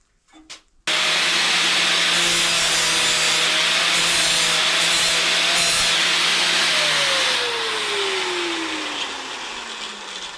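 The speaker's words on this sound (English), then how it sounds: "just grind a little bit of shape in them to go around the tube" An electric grinder bites into small metal pieces being shaped to fit around a steel tube for a camper van spare wheel carrier, a loud sustained harsh whine that starts abruptly and slowly drops in pitch near the end.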